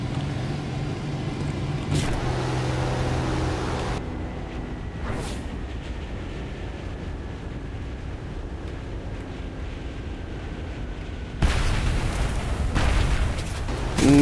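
Bombs explode in a video game as heavy, rumbling blasts. One long roar opens the stretch, sharp cracks follow, a quieter rumbling lull comes next, and a second loud burst hits near the end.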